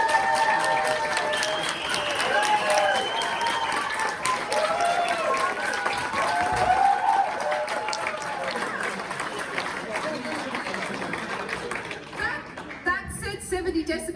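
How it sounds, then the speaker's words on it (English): Audience of students and staff applauding as a vote for the affirmative side at a university debate; sustained clapping with some cheering and chatter for about twelve seconds, then fading. "applaud now."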